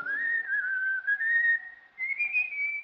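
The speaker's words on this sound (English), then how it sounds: "Listen, isn't that somebody whistling?" A single person whistles a sustained, wavering melody outdoors, clear and fairly close, with brief pauses between phrases.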